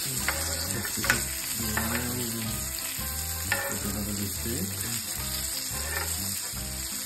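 Goat steak sizzles in a pan over a low flame, a steady close crackle and hiss with occasional stirring scrapes and no talking.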